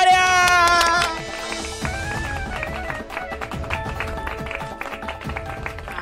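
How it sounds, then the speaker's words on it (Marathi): Several people clap for a newly appointed IPS officer, a woman congratulated at home. The scattered, uneven hand claps run under loud background music throughout. "टाळ्या."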